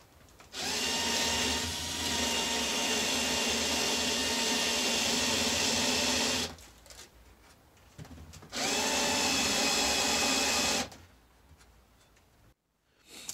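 A power drill fitted with a countersink bit, used while building a gaming table, whines loudly in two sustained bursts of several seconds each with a short pause between, close and without talk.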